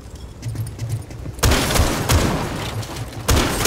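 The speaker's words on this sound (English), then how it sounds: "Please stop shooting." Heavy gunfire bursts from a Rainbow Six Siege hostage match on the Kanal map, with loud shots starting mid-clip and returning twice more over low background game noise.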